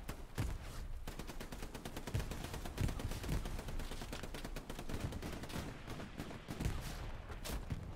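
Video game gunfire in a multiplayer shooter: dense, rapid bursts of shots and automatic fire crackle continuously throughout, fairly faint in the mix with occasional louder reports, no talk heard.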